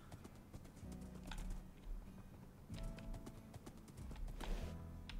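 Horse hooves clip-clop in a steady rhythm while riding across Minecraft terrain, close and moderately loud, with a faint game ambience behind.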